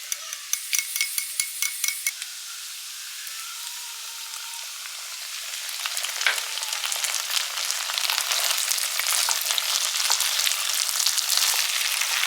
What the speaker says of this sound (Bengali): আর ফ্রাই করতে করতে কিন্তু চিকেনের পিসগুলো সুন্দরভাবে সেদ্ধ হয়ে গেছে।